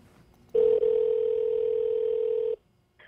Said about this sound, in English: So we decided to give Tom a call.